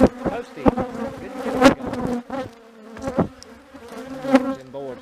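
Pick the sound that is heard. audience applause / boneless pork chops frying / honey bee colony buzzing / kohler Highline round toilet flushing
honey bee colony buzzing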